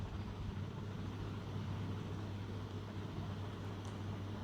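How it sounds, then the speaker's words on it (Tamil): A mixer grinder reducing broken rusk to a fine powder in a jar, a steady, faint motor whir with a constant low hum and no change in pitch, heard alone. "இதை நல்லா நைஸாக ஃபைன் பவுடராக அரைச்சி எடுக்க போகிறோம்"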